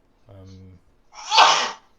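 A short voiced intake rises into a single loud, breathy sneeze, close up and alone in an otherwise quiet room.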